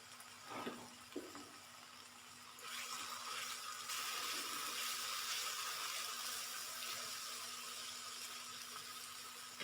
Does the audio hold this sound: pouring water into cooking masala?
yes